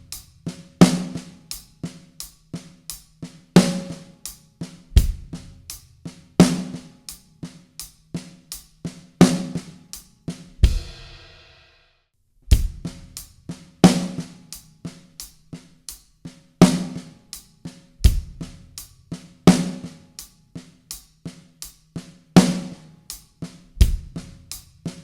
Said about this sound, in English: just moving our left hand onto the snare drum